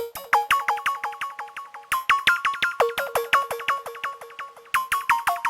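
Bright, bell-like synth plucks, one an Ice Age pluck preset, in quick rhythmic patterns, two layered tones striking together in a steady bouncing melody with no voices.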